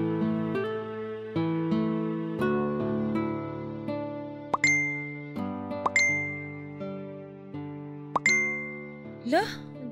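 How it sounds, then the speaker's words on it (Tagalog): Phone notification chimes ringing out repeatedly in a home, a string of bright dings and tinkles over a sustained tonal music bed, with a quick rising chirp near the end. "Toto, itong phone mo kanina pa tunog ng tunog"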